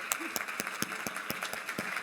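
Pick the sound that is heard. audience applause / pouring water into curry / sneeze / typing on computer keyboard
audience applause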